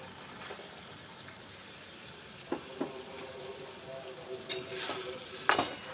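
Fried potatoes and pointed gourd are stirred into an onion masala in a pan, giving a quiet, steady sizzle. A few sharp scraping and clinking strokes near the end sound louder than the rest.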